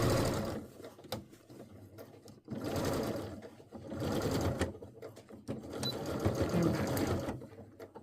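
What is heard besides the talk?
sewing machine sewing up a seam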